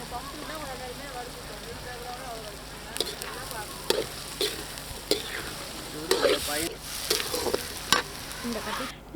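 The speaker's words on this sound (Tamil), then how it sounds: "அதையுமே போட்டு வதக்கிக்கலாம்." Onions and chicken sauté in a pan at a riverside family cookout, a steady sizzle with stirring scrapes and clinks over it, while people talk throughout.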